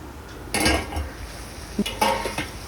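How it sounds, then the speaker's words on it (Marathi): A lid is set on a pressure cooker of mutton paya sukka over low gas, with two distinct metallic clanks of lid against pot, one early and one later, close and fairly loud in a quiet kitchen. "गॅस मंद करून कुकरवर झाकण ठेवून द्यायचं आहे"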